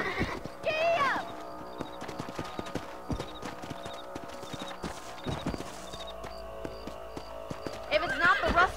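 A horse's hooves clip-clop steadily at a gallop in the Red Dead Redemption video game, carrying on near and even under a voice, with a short whinny or snort near the start and again at the end.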